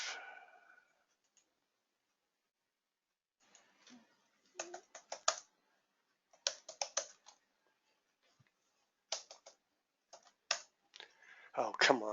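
Bursts of keystrokes clatter on a computer keyboard in short, uneven clusters separated by silent pauses, close and fairly quiet, with a brief voice at the start and end.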